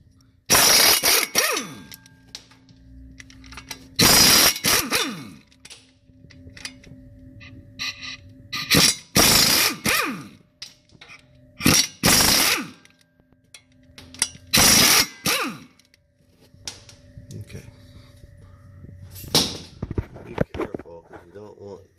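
A ratchet wrench turns 15mm bolts on a Chevy Tahoe 4x4 during a rear main seal replacement, in several separate bursts of close, loud clicking with someone talking in the pauses between them.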